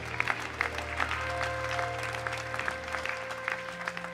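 A church congregation at a worship service claps and cheers for the Lord, steady applause filling the room throughout with some crowd voices mixed in.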